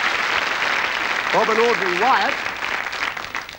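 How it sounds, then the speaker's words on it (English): Studio audience applause on a 1984 British game show rolls on continuously, while a host speaks over the clapping midway before it tapers off at the end. "Give them a round of applause."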